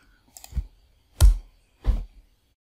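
Computer keyboard pressed three times in slow succession while installing software on Ubuntu, distinct sharp clicks close to the microphone with the last keystroke being enter, no talk.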